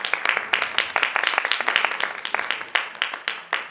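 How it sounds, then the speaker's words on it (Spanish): Applause at the close of a Spanish-language presentation, a small audience clapping in quick, uneven bursts of sharp claps, fairly close, with no talk over it. "Un fuerte aplauso nuevamente"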